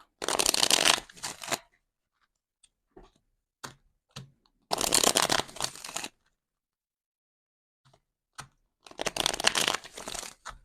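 A tarot card deck being shuffled in three close, crisp bursts of riffling, separated by quiet gaps with small taps and handling sounds.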